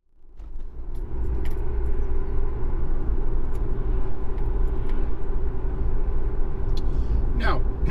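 Steady low engine and road rumble from inside a moving van on the road, constant and close, with faint rattles and a brief higher squeak near the end.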